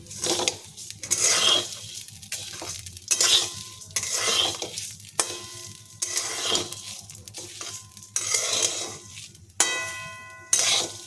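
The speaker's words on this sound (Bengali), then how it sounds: "এবার এইগুলো সঙ্গে ভাজবো একটু" Whole spices with cardamom and cinnamon frying in a pan for Gobindobhog rice khichuri, with repeated scraping and clinking of a metal spoon against the pot over a soft sizzle, close and fairly loud, no talking.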